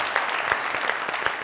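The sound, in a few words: studio audience applause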